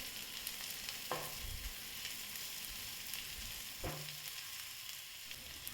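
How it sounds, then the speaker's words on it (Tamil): Steady sizzling of bitter gourd and onion frying in a pan, with occasional stirring scrapes and taps of a utensil, close and moderately loud throughout. "இப்போ நம்ம வதக்கி எடுத்து வச்ச பாவக்காய் இது கூட சேர்த்து நல்லா கலர் மாறி வர்ற வரைக்கும் நல்லா வதக்கிட்டே இருக்கலாம்"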